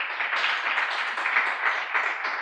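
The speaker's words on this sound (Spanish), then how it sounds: "Denle un aplauso al Señor." Church congregation applauding together, a steady broadband wash of many hands clapping at moderate loudness with no clear pauses.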